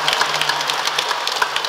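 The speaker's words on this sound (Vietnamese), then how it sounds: "Xin quý bà anh chị em cho một tràng pháo tay nữa." A crowd at a Catholic parish feast-day celebration for Saint Martin claps in a steady, dense round of applause, moderately loud and without speech.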